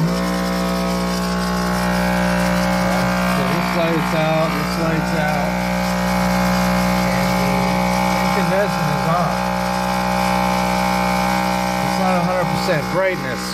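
A Gerard Morin pump runs a fan and an incandescent bulb, giving a constant loud mechanical hum with steady tonal whine throughout; a faint voice may occasionally sound beneath it.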